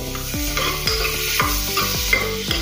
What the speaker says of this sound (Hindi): इसको मिक्स कर लेंगे अच्छे से, बटर को भी और तेल को भी।